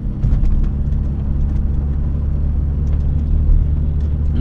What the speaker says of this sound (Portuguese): o que mais chama atenção nesse carro também, galera, é o ronco do motor V6